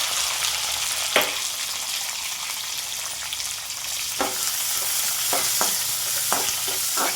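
Onions and green chillies sizzle steadily in hot oil, a dense continuous frying hiss with a few sharp stirring scrapes at intervals, close and fairly loud throughout, no voices.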